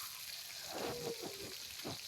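Chicken and potatoes fry together in a pan, giving a soft, steady sizzle with a few brief bubbling pops, quiet and with no talking.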